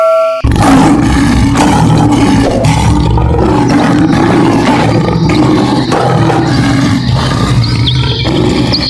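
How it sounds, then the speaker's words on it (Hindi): A cartoon lion gives one loud, sustained roar lasting several seconds, close and dominant with no talk over it. "शेर सिंह के दहाड़ सुनकर शिकारी डर जाता है"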